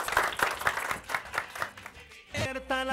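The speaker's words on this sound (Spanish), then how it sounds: "¡El aplauso!" Rhythmic clapping from a studio audience on a gaita music TV program, a series of distinct claps that give way to the start of tonal music near the end.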